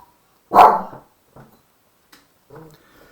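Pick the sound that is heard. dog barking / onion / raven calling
dog barking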